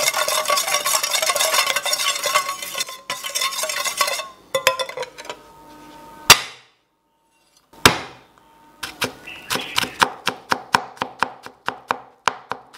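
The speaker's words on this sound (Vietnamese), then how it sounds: "Chúng ta sẽ hòa tan những hợp nguyên liệu lên." A utensil scrapes and clinks against a bowl, stirring chili and water into a sauce, pauses briefly, then resumes with a quick series of sharp taps.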